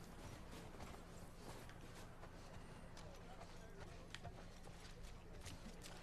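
Horse hooves clip-clop in the video game The Last of Us Part II, a faint, continuous run of scattered hoof strikes over a quiet, steady background.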